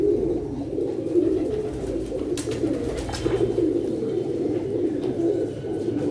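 Pigeons on a rooftop coo in a steady, low, throaty rolling drone that continues close and clear throughout, with no talk.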